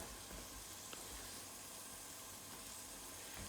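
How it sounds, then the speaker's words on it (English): Tomatoes, garlic and other vegetables sizzling steadily in hot oil in a pan, a soft continuous crackle and hiss with faint pops, close and fairly quiet, no voices. "let that sizzle for just a minute"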